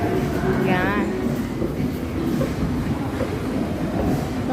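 Inside a Rapid KL LRT train in Kuala Lumpur, a steady rumble of the moving car with wheel noise carries throughout, while people talk faintly over it.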